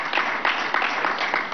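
An audience applauds at a Venezuelan presidential event, a dense, steady wash of many hands clapping, loud and continuous with faint rhythmic swells.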